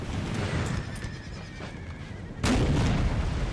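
Cavalry clashing amid gunfire in Napoleon Total War, a dense roar of battle with a sharp loud burst of shots breaking through near the end.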